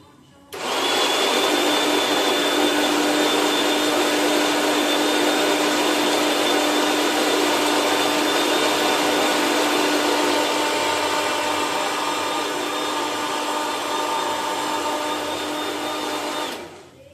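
A kitchen blender runs continuously while blending cooking ingredients, a loud, steady whir that starts abruptly, holds at a constant pitch for about sixteen seconds, then cuts off.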